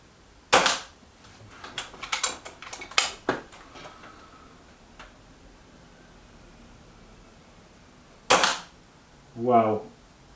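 Kral NP-03 air rifle firing JSB pellets: a sharp, close crack near the start, then a cluster of smaller clicks and knocks of handling, and another loud crack later, followed by a short low hum.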